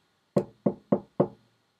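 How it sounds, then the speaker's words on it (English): Four sharp, evenly spaced knocks on a door, close and distinct, each dying away quickly in an otherwise quiet room. "he heard a knocking at the door"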